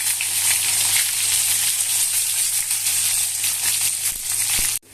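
Stuffed brinjal curry fries in a pan while being slowly stirred, giving a steady, dense sizzle that holds at an even level throughout before cutting off abruptly at the end.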